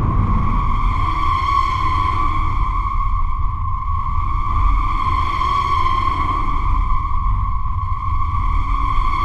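A dissonant horror synth pad built in Vital from clashing minor-second notes, with chorus and distortion, holds a sustained eerie tone that swells and fades in slow waves, alone and steady.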